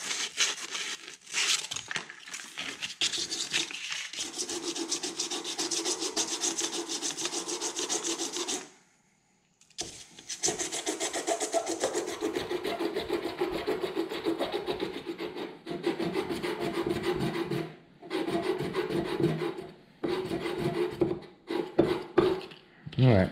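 Steady scratchy rasping of sanding the end of a metal pushrod for a VW air-cooled stroker engine, close up, continuing in long strokes with a couple of brief pauses.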